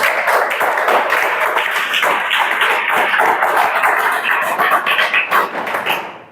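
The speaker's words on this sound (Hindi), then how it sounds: "चलो ताली बजा दो।" A class of students claps together, a fast, dense patter of many hands close by that keeps up for several seconds before tapering off at the end.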